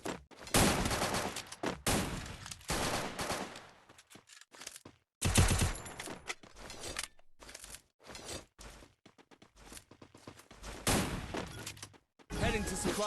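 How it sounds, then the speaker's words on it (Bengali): UMP submachine gun fire in the mobile shooter Free Fire: loud, close bursts of rapid shots in several clusters separated by short pauses, with crunchy impacts and footstep-like noises between volleys. "ইউএমপি দিয়ে হেডশট মারবো"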